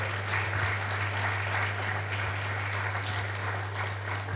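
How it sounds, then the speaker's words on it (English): Audience at a book presentation applauding the panel speakers, a sustained even wash of many hands clapping together at moderate volume, with a steady low hum underneath. "So please clap for everyone that came up here."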